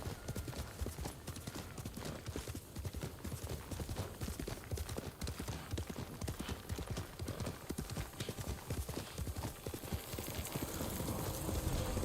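A horse galloping in the video game Ghost of Tsushima: rapid, steady hoofbeats pounding continuously and close up for the full stretch, growing slightly louder toward the end.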